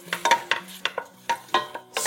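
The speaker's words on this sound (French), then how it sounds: "On va faire suer les oignons et l'ail." Onions and garlic sweat in a pan with harissa for a spicy tomato and semolina soup, with a soft sizzle broken by repeated close stirring scrapes and clinks in an uneven rhythm.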